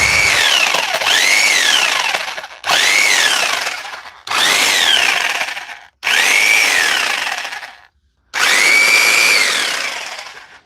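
A Bosch hammer drill under repair testing runs in five loud, close bursts separated by short pauses, each burst a harsh whining rattle with pitch rising and falling as it spins up and down.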